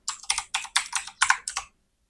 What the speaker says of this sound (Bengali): আমি এখানে ইউটিউব থাম্বনেল লিখে সার্চ দিচ্ছি।